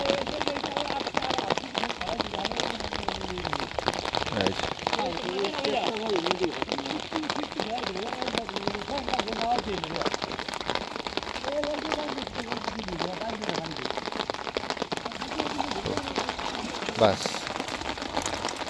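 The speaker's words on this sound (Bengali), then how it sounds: "বৃষ্টিগুলো পড়তেছে কি বড় বড় ফোটা দেখেন" Heavy rain with big drops falls on a village canal during net fishing, a dense, steady hiss of drops spattering on water, with faint voices now and then.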